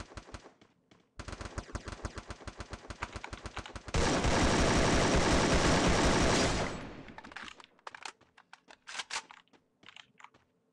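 Video game gunfire in the battle royale Free Fire: a burst of rapid automatic shots, then a loud sustained volley lasting a few seconds, followed by scattered sharper shots, with no talking.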